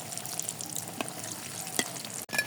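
Egg and potato chops deep-frying in oil give a steady, close crackling sizzle that runs throughout, with a few brief clinks and a short sharp knock near the end.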